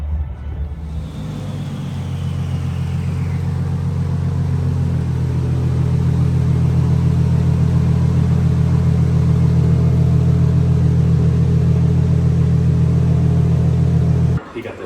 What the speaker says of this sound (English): We're back with Steven's R32. She doing pretty good on the dyno.